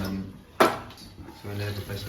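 A small frying pan is picked up in a kitchen, giving a single sharp metallic clank followed by softer rattles, with people talking around it.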